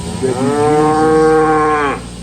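A single dairy cow gives one long, loud, close moo lasting about two seconds in the milking parlour, with no talk.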